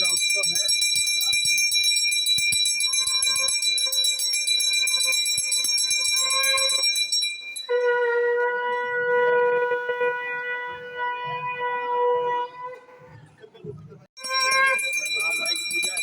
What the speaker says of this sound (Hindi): ये शंख ध्वनि आप देख रहे हैं लगातार चल रही है।